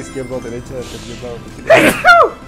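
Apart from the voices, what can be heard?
sneeze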